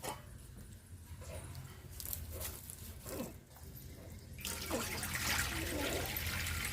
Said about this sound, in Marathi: तर आपण त्यावर पाणी टाकतोय.